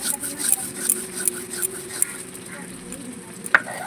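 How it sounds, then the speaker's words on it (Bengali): Spice paste ground on a shil-pata grinding stone, a soft rhythmic scraping and rubbing at close range, repeated in quick strokes with a sharper knock near the end. "আমি এখানে দিয়ে শিলপাটায় বেটে নেব"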